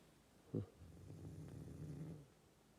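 A man sleeping at dawn at a spring goose-hunting camp in Yakutia snores, with a sharp snort at the start followed by a long, low rumbling breath, close and fairly quiet.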